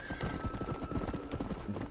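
A horse in the Red Dead Redemption video game, played on Xbox One, clip-clops with quick, repeated hoofbeats and lets out a whinny partway through, loud and close.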